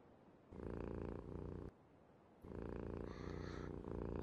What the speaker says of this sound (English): look, a miniature kitty, a miniature puppy